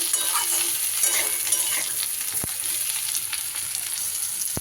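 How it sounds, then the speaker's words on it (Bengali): Eggplant pieces fry in a pan, giving a continuous, even sizzle with soft stirring scrapes and an occasional sharp tap of the utensil. "বেগুনের টুকরোটা দিয়েও একটু নাড়িয়ে চাড়িয়ে ভাজা করে নেব।"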